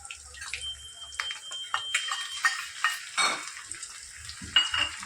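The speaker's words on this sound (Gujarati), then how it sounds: "હવે ટમેટા અને ડુંગળીને તેલ છૂટું ન પડે ત્યાં સુધી સારી રીતે એને પણ આપણે સાતળવા દઈશું" Grated tomato and onion sautéing in oil in a pan, soft sizzling beneath repeated scraping and clinking of a spoon stirring against the metal pan.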